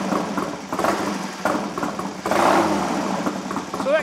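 A classic motorcycle engine running in a workshop with a carburettor slide issue, idling roughly and rising with several throttle blips, loud and close with a faint whine near the end.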